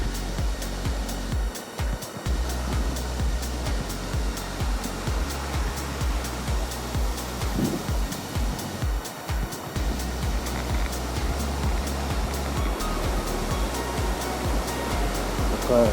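Water spills over a small dam from a pond, down a little drop, in a steady, loud, broadband rushing that continues unbroken and close by.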